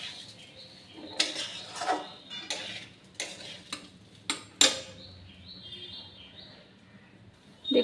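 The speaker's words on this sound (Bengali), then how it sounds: "একটু ভেজে ভেজে নেব। একদম গ্যাস কমিয়ে কিন্তু আমি করছি।" Pulao rice fries gently in a pan on low gas while a utensil scrapes and stirs it in irregular bursts, with soft sizzling underneath and occasional sharp clinks against the pan.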